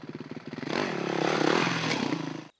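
A dirt motorcycle in first gear pulses at low throttle, then revs up into a sustained buzzing roar as it climbs over a log, with some clatter, close and steady before cutting off.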